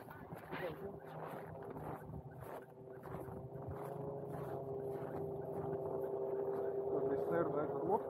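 A motorboat passing on Lake Baikal near a lighthouse, its steady low engine drone building gradually louder over several seconds beneath nearby conversation.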